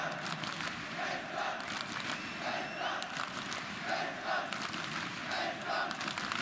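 A large esports arena crowd at a CS:GO semifinal on Cache at ESL One Cologne 2017 gives a sustained roar with rhythmic chanting swells, loud and continuous, with a faint voice partly masked underneath.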